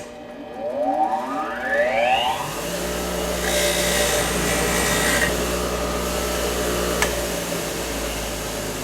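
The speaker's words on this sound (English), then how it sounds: "I'm going to clean them up with my wire wheel" An electric wire wheel spins up with a rising whine, then steadily grinds and scrubs brake caliper pins, a loud, continuous buzzing hiss with shifting intensity and no talking.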